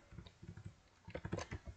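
Fingers typing JavaScript code on a computer keyboard, two quick bursts of soft key clicks in an uneven rhythm, close and faint, no voices.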